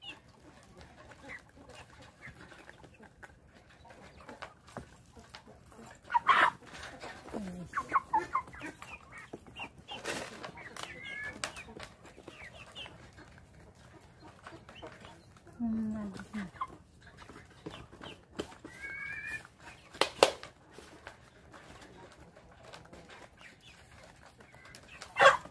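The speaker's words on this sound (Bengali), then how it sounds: "ওই হলো দেশি মুরগি" Native backyard chickens give scattered clucks and short calls near and at a distance, with quieter stretches between bursts and someone talking now and then.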